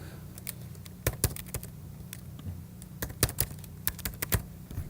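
Irregular keystrokes on a computer keyboard as a username and password are typed, clustered clicks and taps with short pauses, close and fairly quiet over a low steady hum, no talking.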